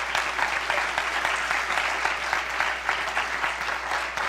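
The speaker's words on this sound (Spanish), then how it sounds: "Dale un aplauso fuerte al Señor." A church congregation claps loudly and continuously, dense applause filling the room for several seconds.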